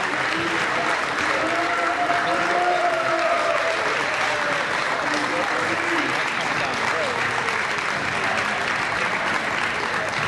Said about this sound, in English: A nice round of applause for Garrett O'Neill.